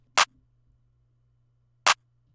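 Two sharp, isolated claps sound about a second and a half apart, crisp and close, with a faint low hum in between.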